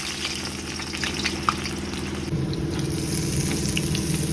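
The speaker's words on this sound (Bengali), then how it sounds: "এবার পেঁয়াজগুলো ঝরঝর করে ভাজবো, একদম ধীরে ধীরে কাটা পেঁয়াজ।" Sliced onions frying slowly in oil, a soft, even sizzle beneath a steady low mechanical hum, with faint clicks and a slight rise in the background noise partway through.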